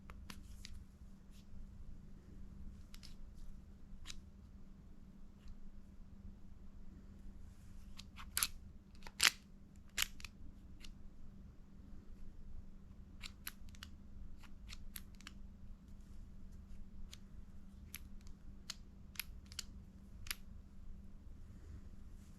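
Clicks from a Klein Precision insulated screwdriver as it is pushed down, a scattering of faint, sharp ticks spread irregularly over a low steady hum, with a few louder clicks bunched in the middle.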